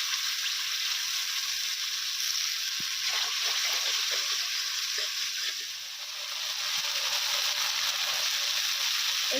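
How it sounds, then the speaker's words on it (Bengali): Onion and tomato paste fry in a pan for an egg curry as ginger-garlic paste is added, giving a continuous soft sizzle with scattered stirring clicks and scrapes and a brief dip partway through. "পেঁয়াজ টমেটো বাটা হালকা ভাজা হয়ে এলে আদা রসুন বাটা দিয়ে দেবো।"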